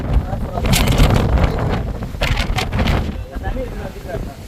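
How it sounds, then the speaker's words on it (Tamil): Strong wind on the Rangamalai hilltop buffets the microphone in loud, roaring gusts that swell and ease, with a person talking through it. "இந்த இடத்துல பயங்கரமான காற்றடிக்கிறது"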